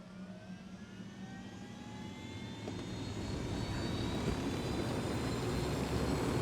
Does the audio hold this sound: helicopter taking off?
yes